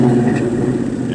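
A short, close rev from a 1967 Mustang Fastback restomod carrying a supercharged 2007 GT500 engine gives a deep, pulsing growl and a thin, high whine that rises faintly over the rumble.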